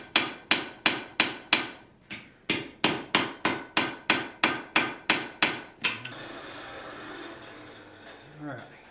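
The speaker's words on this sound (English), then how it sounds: "Chasing that little ball of steel that's headed right in front of my hammer" A hammer rings against steel on an anvil in quick, regular strikes while forging a horseshoe, about fourteen blows with a short pause, then the pounding stops and faint background noise remains.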